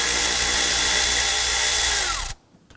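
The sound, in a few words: 7mm socket driver loosening lower intake tube on Ford F-150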